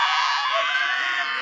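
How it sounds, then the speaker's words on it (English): A shrill Jurassic dinosaur screech sound effect from a teen stage play, one sustained loud cry lasting about a second and a half with no break. "A Jurassic screech is heard."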